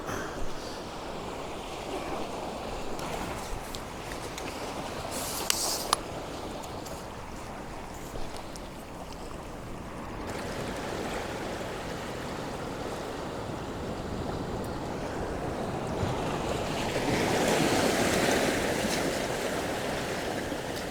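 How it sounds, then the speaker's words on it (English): Waves wash and hiss steadily around rocks under a rushing wind, with a louder surge of water near the end. "Just wait for some water to kind of wash around the rocks."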